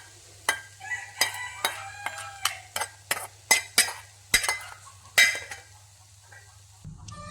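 A spoon stirring Karkkidaka thoran, a Kerala stir-fry with greens and cooked jackfruit seeds, in a cooking pot: about a dozen sharp metallic scrapes and clinks in an uneven rhythm, close and clear over a low steady hum.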